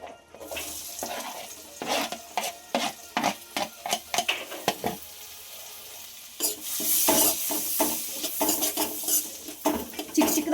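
Three finely chopped onions frying in melted butter in a pan for pav bhaji, a soft sizzle broken by repeated scraping and stirring strokes of a spoon against the pan, close and clear with no speech.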